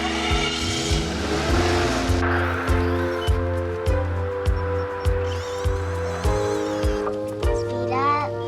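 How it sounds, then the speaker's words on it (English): A car engine starts and pulses in rhythmic low revs as the car pulls away, with a repeating chugging pattern and some light voices in the background. "Start the engine."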